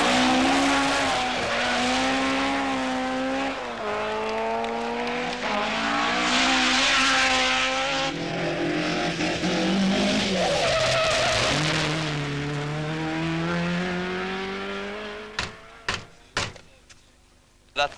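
A Ford Escort RS1800 rally car, driven by Ari Vatanen, revs hard with rising and falling engine pitch and squealing, skidding tyres, loud and close, then fades and ends in a few sharp knocks.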